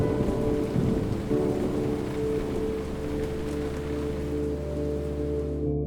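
Heavy rain pours steadily through a thunderstorm, with a low rumble of thunder rolling beneath the downpour throughout, loud and continuous with no voices.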